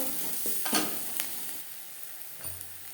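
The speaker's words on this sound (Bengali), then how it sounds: "পাঁচ মিনিট পেঁয়াজ লঙ্কা ভেজে নেওয়ার পর" Sliced onion and green chili fry gently in a pan, a soft, low sizzle with a few faint stirring knocks.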